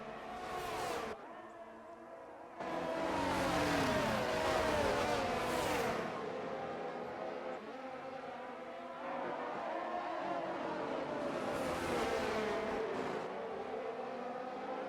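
Several race cars jostle side by side for third place in a sim racing championship, their engines droning and revving together in a dense, continuous roar that swells and shifts as they jockey through the field.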